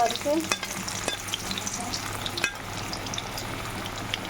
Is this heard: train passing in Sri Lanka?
no